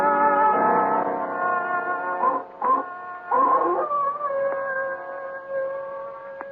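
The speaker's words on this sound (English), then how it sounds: "The dog has started barking and howling again" A dog howling in long, sustained, wavering tones, close and fairly loud, with brief breaks between howls and no other voices.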